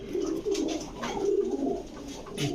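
Saharanpuri pigeons cooing continuously in a pigeon shop, a close, steady run of low throaty coos with a brief higher call near the end.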